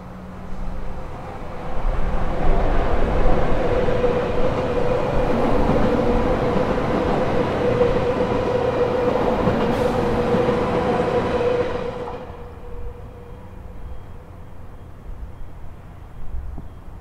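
A JR Kagoshima Line regional rapid train passes close by with a loud, steady rumble and rail roar lasting about ten seconds, then cuts off abruptly, leaving quiet ambience.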